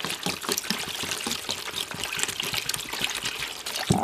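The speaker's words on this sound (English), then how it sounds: "Fill these up with water." Water pours steadily into containers being filled for washing a restored Shirley Temple doll, a close, continuous trickling stream with a brief clunk at the end.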